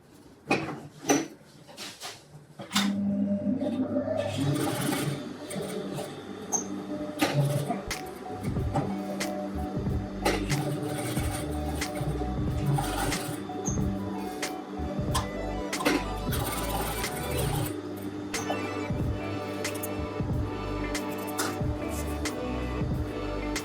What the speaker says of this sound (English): And now we want to stitch the ends together and then close the little tunnel.